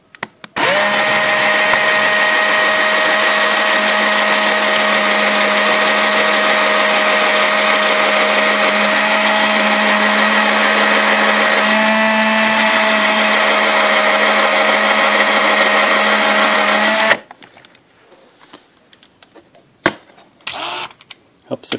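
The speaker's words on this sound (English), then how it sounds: "So what you should do is drill a pilot hole first that's bigger than your screw." A power drill runs a steady, loud whine while boring a pilot hole into wood, holding one continuous pitch for about seventeen seconds before cutting off, with faint clicks and handling noises afterward.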